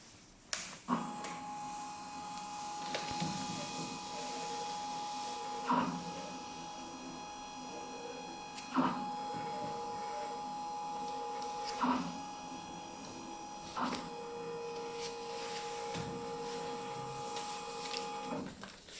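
A PFM 205 paper folding machine running, a steady mechanical hum and whir with regular clacking thumps every few seconds as sheets feed and fold, close by, no talking.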